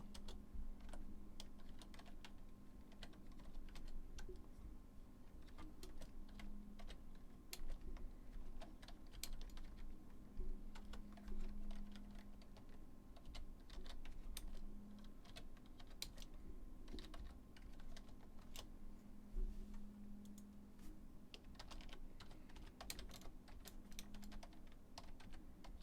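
Computer keyboard typing during a live radio-style stream: a long, steady run of fast, light key clicks with irregular rhythm, close and quiet over a constant low hum.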